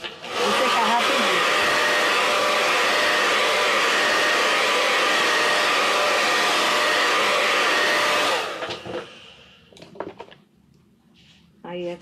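A hair dryer blows steadily and loudly for about eight seconds while drying craft paint on a DIY café sign, then cuts off, followed by light handling noises and brief talk.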